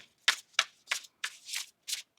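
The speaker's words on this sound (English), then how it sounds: "One more shuffle." Tarot cards being shuffled up close, six quick riffling bursts in an even rhythm separated by brief pauses.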